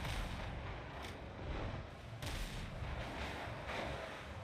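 Ship cannons boom in a naval battle in the video game Windrose, a run of loud, rumbling blasts in quick succession with no talking.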